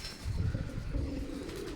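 Soft, low cooing from a small pigeon of an old home-bred line, close by and continuous for about two seconds with no talk over it.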